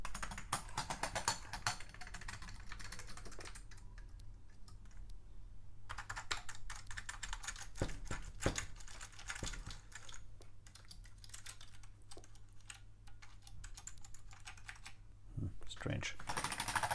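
Keys on an Amiga 500 keyboard are tapped one after another during a key test, irregular clicks with short pauses, close and fairly quiet, with a voice speaking at moments.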